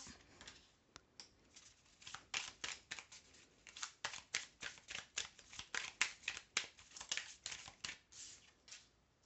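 Tarot cards being drawn and handled during a reading, giving a steady run of soft, crisp flicks and slides, fairly close and quiet, with no talking.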